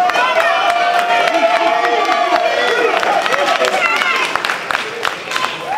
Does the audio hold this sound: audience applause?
yes